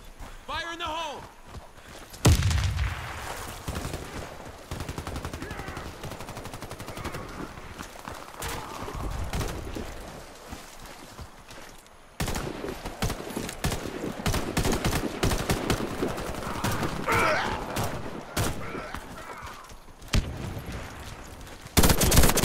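Gunfire and explosions in the Warface multiplayer shooter, with dense bursts of automatic fire and loud impacts across the whole stretch, mixed with game sounds while a player talks over much of it.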